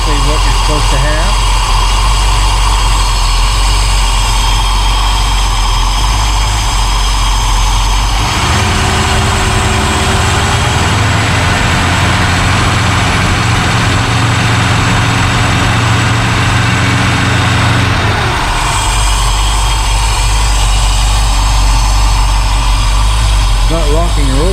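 1972 Mercedes-Benz 280SE 4.5 engine running a little rough at idle, a loud, steady close drone with a deeper, uneven stretch in the middle.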